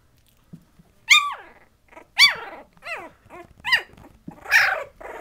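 Patterdale Terrier puppies play fight, letting out a series of about five sharp, yelping growls and squeals spaced roughly a second apart, close and loud with brief quiet gaps between.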